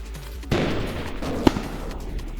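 Rockets fire from a mobility suit weapon in the Roblox game Build A Boat: a sudden burst opens into a dense rushing blast with a sharp crack midway, then trails off, fairly loud and alone.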